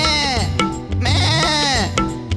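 A goat bleats in drawn-out, wavering cries over a loud backing track of a Marathi children's rhyme about a wolf and a goat.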